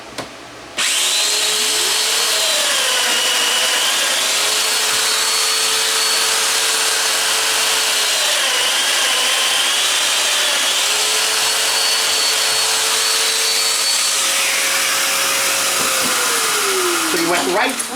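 Festool DF 500 Domino joiner plunging into a wooden workpiece on a tight 28 mm setting, a loud steady high motor whine running for about thirteen seconds with slight pitch dips as the cutter bites, then winding down.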